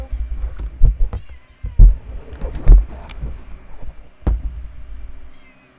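Betty, a pet cat, lets out several loud, close meows and chirps in an irregular run of four or five calls, with low thumping handling noise between them.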